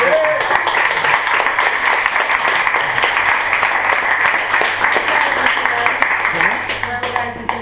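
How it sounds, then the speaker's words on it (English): A studio audience at a comedy interview show gives a round of applause, steady dense clapping at close range throughout, with voices faintly mixed in. "Give her a round of applause."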